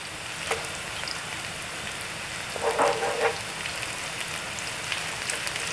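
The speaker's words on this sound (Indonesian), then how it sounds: "nah ini sudah harum dan saya masukkan bawang putihnya" Garlic and shallots sauté in oil for canned sardines, a steady soft crackle throughout with a brief louder sizzle burst midway as the garlic goes in.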